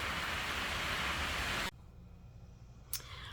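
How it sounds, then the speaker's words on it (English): Steady broadband rain falls outdoors, a dense continuous hiss that cuts off abruptly partway through, leaving quiet room tone with a brief sharp tap near the end. "just listen to the rain"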